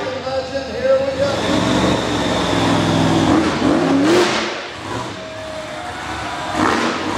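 A motorcycle engine revs and drones at a wheelie competition, rising and falling in pitch at a moderate distance, heard under an announcer's ongoing commentary.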